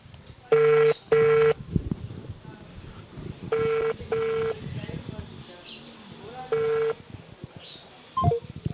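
Telephone tones sound during a call: loud, paired electronic tone bursts repeat in separated groups, each lasting about half a second, with a voice speaking between and under them.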